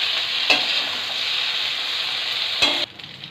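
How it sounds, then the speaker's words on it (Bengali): Okra frying in a pan is stirred, giving a bright continuous sizzle close up with two scraping stirs of a spatula, before the sound suddenly drops away. "ঢাকনাটা তুলে ভেন্ডিটাকে ভালোভাবে নেড়ে দেব।"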